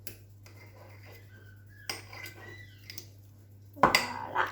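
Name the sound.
garlic being crushed and crunched in a bowl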